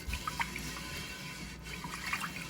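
Water poured off a cast iron skillet after gentle scrubbing, a steady close splashing trickle with light drips, no talk.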